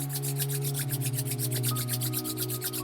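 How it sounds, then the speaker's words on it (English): Palms rub briskly together in a quick, even back-and-forth rhythm, a close, soft swishing of skin on skin repeated many times over a low background hum, with no talking. "Begin rubbing your palms together."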